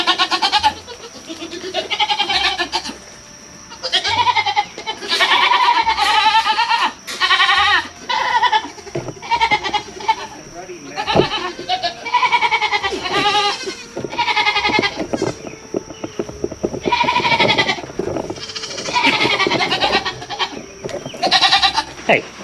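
Goats bleating repeatedly and loudly in a farm pen, overlapping calls from nearby animals filling most of the stretch with brief pauses, a person's voice occasionally mixed in.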